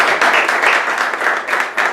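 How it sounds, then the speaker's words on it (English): A meeting audience gives a sergeant a brief round of applause, with dense, steady clapping from many hands running close and loud throughout. "give him a brief round of applause"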